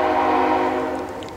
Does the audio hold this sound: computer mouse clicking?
no